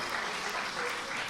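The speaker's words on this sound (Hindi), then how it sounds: "थोड़ी सी तालियां दीजिए" An audience at an Independence Day poetry gathering claps in a dense, even round of applause, moderately distant and steady for the whole short stretch.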